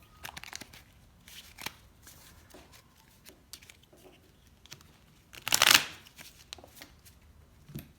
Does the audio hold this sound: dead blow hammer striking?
no